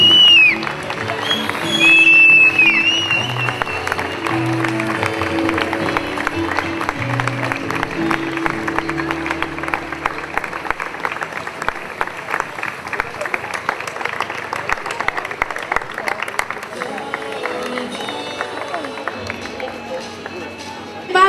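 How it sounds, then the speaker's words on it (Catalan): A crowd applauds steadily for about twenty seconds at a town heritage-representative ceremony in Ripoll, with loud, dense clapping that slowly tapers. "Un fort aplaudiment."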